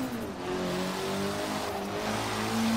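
A slammed Mitsubishi Galant in Forza Horizon 3 accelerating hard, its engine tone climbing steadily in pitch and loudness as revs build, loud and alone.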